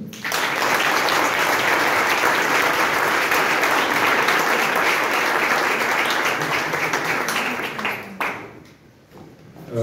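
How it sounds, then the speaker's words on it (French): An audience at a local event in Comines-Warneton gives a woman named Sylvie sustained, loud applause, dense clapping that fills most of the moment before thinning out near the end. "Voilà Sylvie, on l'applaudit."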